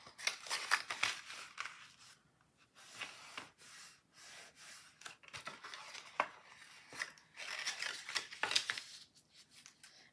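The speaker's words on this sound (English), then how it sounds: "and then folding it really well." Soft paper creasing and rubbing as a card is folded for a St Patrick's Day gnome pyramid craft, faint, close scraping strokes repeated steadily with no talk.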